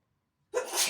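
A single close, sudden sneeze bursting out after a moment of silence.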